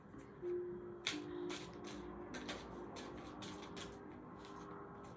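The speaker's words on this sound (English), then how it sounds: "I'm going to shuffle these a few more times" Large tarot cards are shuffled by hand in a series of quick riffles and soft flapping bursts, with brief pauses between them, fairly close and moderately quiet.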